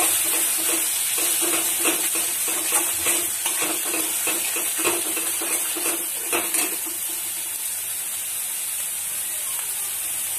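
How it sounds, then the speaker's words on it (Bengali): Spices sautéing with Kashmiri red chili powder in a pan, a steady bright sizzle with scraping stirring strokes that fade toward the end. "কাশ্মীরি রেড চিলি পাউডার 1 চামচ দিয়ে ভালো করে কষিয়ে নেব"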